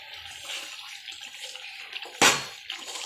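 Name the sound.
water poured over mung beans to soak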